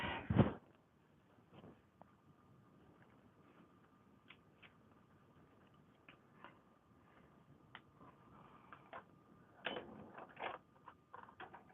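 A sewing machine winds bobbins one after another, a faint steady whir with scattered light mechanical clicks and taps. It is quiet and close, with a louder clatter at the start and near the end.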